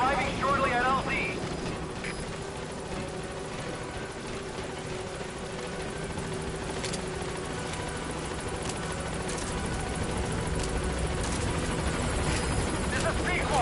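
A support helicopter arrives at a landing zone in Metal Gear Solid 5, its engine and rotors a steady, loud, continuous drone held throughout, with a radio voice speaking over it near the start.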